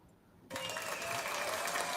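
Applause from a group starts abruptly after a quiet moment and continues as a steady, fairly distant wash of clapping.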